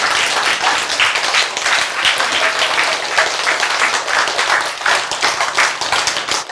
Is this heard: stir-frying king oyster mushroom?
no